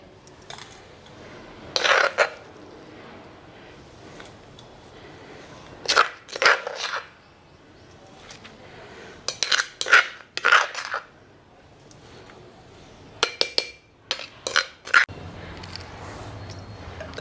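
Mutton keema pounded coarsely in a stone mortar: irregular clusters of sharp, hard stone-on-stone thuds and grinding knocks, close and loud, separated by quiet pauses.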